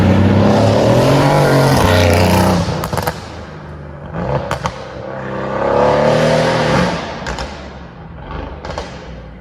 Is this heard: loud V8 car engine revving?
yes